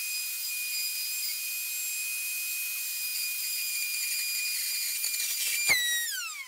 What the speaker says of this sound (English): Oh great, the router bit spun loose again.